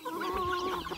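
A single drawn-out, tonal cluck from a broody rooster, close and fairly clear against a quiet background.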